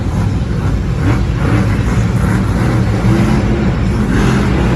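A monster truck engine at a Monster Jam event in Indianapolis rumbles steadily and loudly, with deep low-end drone and slight revving swells throughout.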